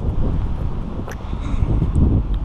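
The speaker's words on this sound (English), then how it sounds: "it's getting really windy" Wind buffets the microphone in low, gusty rumbles that rise and fall in Grand Teton National Park, with faint background sounds.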